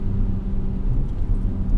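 A modified BMW 535xi Touring engine holds steady at around 4000 RPM, heard from inside the cabin as a low, even rumble without drone, moderately loud and continuous.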